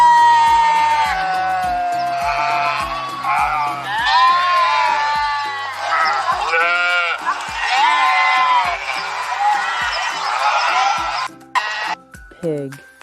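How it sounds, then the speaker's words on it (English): Sheep bleating loudly in a series of wavering, drawn-out cries, part of a run of farm animal sounds, with a low repeating tone beneath and a brief sharp sweep near the end. "sheep,"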